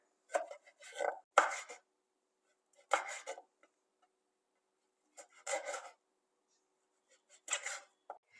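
A knife slices and chops pickled garlic coarsely on a board in short rasping bursts, several strokes in quick groups separated by pauses, close and clear.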